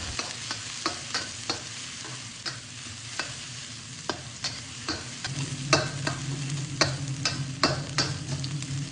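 Steady sizzling of food frying in oil, with regular scraping and stirring clicks throughout and a low hum joining partway.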